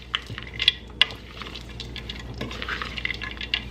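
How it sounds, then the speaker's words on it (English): A utensil stirs a chicken and slaw salad in a bowl, with soft rustling, scraping and a few sharp clinks against the bowl, close up and with no talk. "And go ahead and stir."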